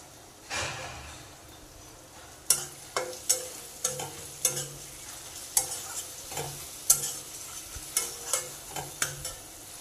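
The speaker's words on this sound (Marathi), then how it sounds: "व्यवस्थित मिक्स करून घेऊयात तेल सुटेस" A spoon stirs onion and tomato masala in hot oil in a pan for a dried javla chutney, making repeated scraping strokes over a low, steady sizzle, close up.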